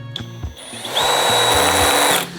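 A cordless hammer drill in driver mode on its lowest speed setting drives a fastener, a steady close whine running about a second and a half before the clutch engages and it stops, with no talk.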